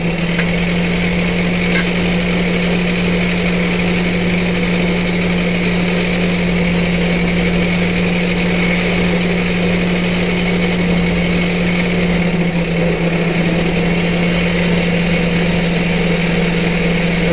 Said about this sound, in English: fire up the lathe real quick and make a cut.